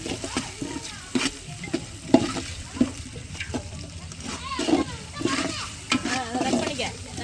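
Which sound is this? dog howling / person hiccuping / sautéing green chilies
sautéing green chilies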